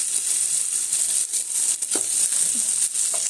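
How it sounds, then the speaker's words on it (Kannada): Oil frying in a home kitchen pan, a steady hissing sizzle with occasional small pops and stirring clatter, close up and without talk. "ಎಣ್ಣೆ ಫ್ರೈ ಮಾಡ್ತೀನಿ"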